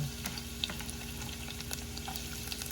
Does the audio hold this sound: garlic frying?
yes